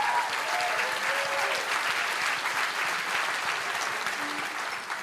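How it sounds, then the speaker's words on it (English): A conference audience at LevelUp Day 2023 gives the development team a round of applause: steady, dense clapping that fills the room for several seconds and tapers slightly at the end, with a few faint voices. "Let's give them a round of applause."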